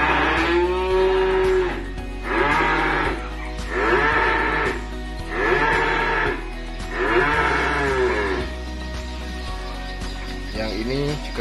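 Young Limousin and other beef calves moo repeatedly at a cattle sale pen, with five or six drawn-out calls at a steady rhythm, close and fairly loud over a low background hum.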